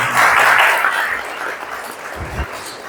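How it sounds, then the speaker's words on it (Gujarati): An audience claps at a design-thinking talk: a burst of applause that swells at the start, then thins and fades over a few seconds, with a brief voice near the end. "જોરદાર તાળી એમના માટે થઈ છે"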